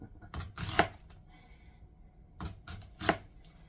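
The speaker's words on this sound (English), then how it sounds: "is dice that onion up" An onion is diced with a knife on a cutting board, two short bursts of quick, close chopping strokes separated by a quiet pause, with no talking.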